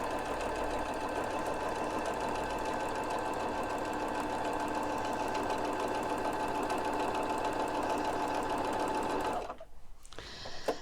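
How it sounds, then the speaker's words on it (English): A sewing machine runs a straight stitch with twin needles, a steady close whirring hum that holds evenly for about nine seconds before stopping abruptly. "I've got my machine set up to just a normal straight stitch. So we'll take a few stitches and see what happens"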